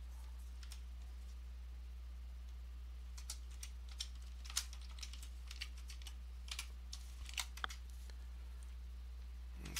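Someone types a password on a computer keyboard, a run of quiet, irregular key clicks over a steady low electrical hum.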